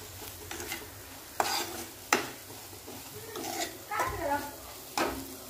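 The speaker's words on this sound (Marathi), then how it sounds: "आता हे साय असे वितळून घेऊया कांद्यासोबत" Homemade cream melts and sizzles with onions in a pan for a palak malai dish, a soft frying hiss broken by several sharp spoon-against-pan knocks and scraping stirs, with faint murmuring in the background.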